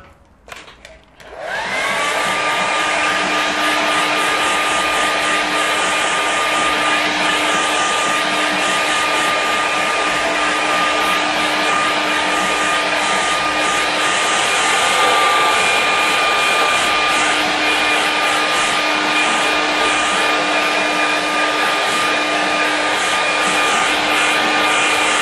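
A hair dryer switches on after a short clatter and blows loud and steady at close range over watercolour paint on paper, holding a constant whooshing hum throughout.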